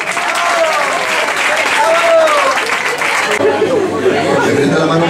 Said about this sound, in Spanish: Aplausos, gracias.